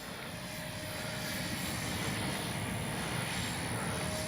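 A Freewing Vulcan RC jet with 70mm ducted fans flies a touch and go, giving a loud, steady, unbroken whine and roar.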